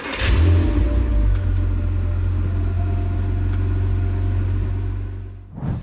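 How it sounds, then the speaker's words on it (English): Porsche Cayman engine turning over and catching, then running with a loud, steady low rumble close by for several seconds before a brief drop and a final rev, with no talking. "now it means we can go ahead and start up the engine and run it for 15 to 20 minutes."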